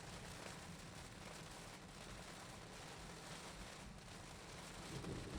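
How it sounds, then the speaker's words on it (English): Heavy rain pounding on a car during a downpour, with flooding on the roadside as the vehicle drives through puddles; a steady, dense broadband roar fills the whole stretch with no voices. "Rain is definitely increasing in this downpour."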